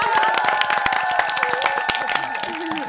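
A studio audience at a Korean idol radio show claps and cheers for the group WAYB, a dense burst of applause and excited shouts that stays loud through the whole moment.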